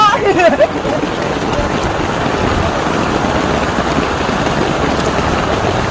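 Steady, dense rain pours down with a constant hiss and patter, a few voices shouting faintly at the start.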